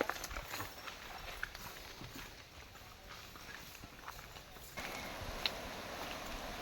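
A horse's hooves clip-clop at a walking pace while crossing a river, with rushing water hissing steadily underneath, fairly faint and distant.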